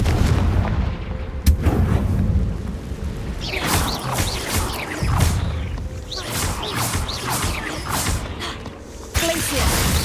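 Confringo blasting spells cast in Hogwarts Legacy, a burst of loud explosive cracks and bangs with whooshing spell effects, dense and continuous over battle noise, with spoken spell incantations mixed in.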